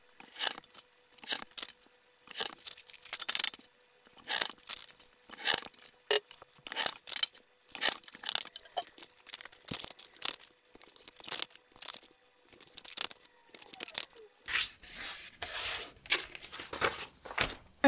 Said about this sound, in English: I'm just going to quickly chop these down so they're the right size